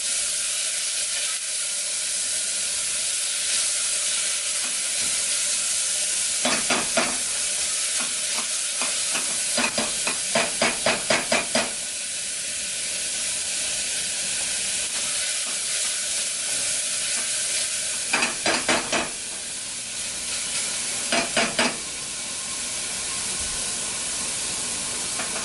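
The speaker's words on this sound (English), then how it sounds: "I'm going to saute for a minute" Red and green peppers sauteing in a pan while cooking Jamaican jerk chicken wings, a steady sizzling hiss throughout with occasional bursts of rapid clicking stirring or tapping from a utensil against the pan.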